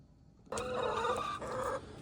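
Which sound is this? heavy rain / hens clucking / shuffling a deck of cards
hens clucking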